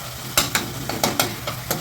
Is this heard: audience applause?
no